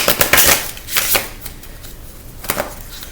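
Tarot cards riffle and slap together in several quick shuffling bursts, close and fairly loud, with brief pauses between them and no talking.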